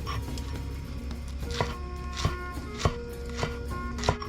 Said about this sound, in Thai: เดี๋ยวผมจะมาหั่นผักต่างๆไว้รอเลยเนาะเริ่มจากต้นหอมครับ